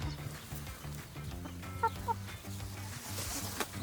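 A few quick clucks from hens, a mix of red, blue and white laying chickens, pop up briefly in the middle of a steady background hum, faint and fairly close.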